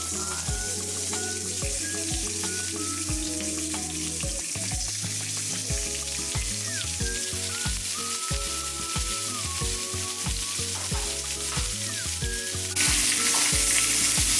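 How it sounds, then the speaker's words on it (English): Steaks searing in a hot pan, a loud continuous sizzle with repeated clatter and scraping of the pan, close and steady throughout. "now that the pan is hot, we are loading the steak"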